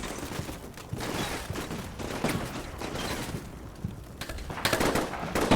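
Dense rattling gunfire in the Combat Mission Shock Force 2 wargame, with a sniper team firing across the way at a polytechnic: steady crackling bursts with sharper cracks near the end, and no talk.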